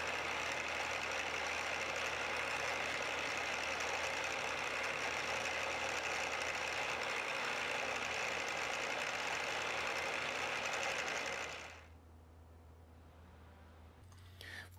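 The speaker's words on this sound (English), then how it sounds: "Now I'll drill a 1/16 inch hole for the scribe point." A drill bores a 1/16 inch hole in a metal scribe piece, a steady high-pitched whirring grind lasting about twelve seconds before cutting off abruptly into quiet hum.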